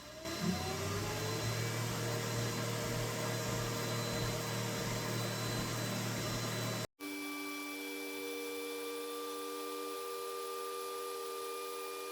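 xTool M1 Ultra diode laser engraving a logo onto slate, heard as a steady mechanical whir with a fan hiss and faint tonal whines, then after an abrupt cut a quieter, smoother hum with sustained tones.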